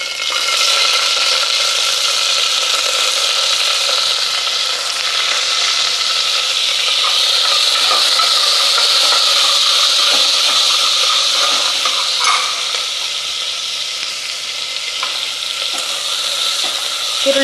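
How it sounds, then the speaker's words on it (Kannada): Onions frying in oil with mustard seeds and curry leaves for a chow chow kootu, a loud, continuous close sizzle with hiss and occasional stirring, no voices. "ಈರುಳ್ಳಿ ಸ್ವಲ್ಪ ಹುರ್ಕೋಬೇಕು"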